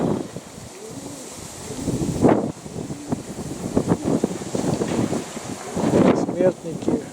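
Strong wind buffets outdoors over a rooftop where racing pigeons fly, a rough gusting roar across the mic with someone talking through it.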